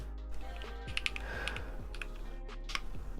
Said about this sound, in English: I can type it here.